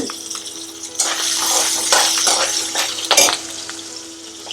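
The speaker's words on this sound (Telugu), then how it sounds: "పోపు వేగిపోయింది ముందుగా అల్లం పచ్చిమిరపకాయ" Ginger and green chillies sizzle in hot oil as a tempering for semiya upma, a steady close hiss with several sharper bursts of spattering and stirring.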